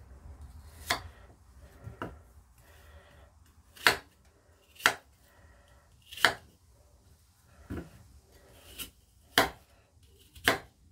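A knife slices peeled apples into halves on a board, the apples meant for roast chicken with apples. About nine crisp, close cuts land at a steady, unhurried pace over quiet background, with no talking.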